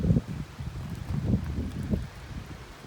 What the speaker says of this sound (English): Thought I'd get out and film what some of those badass gusts look like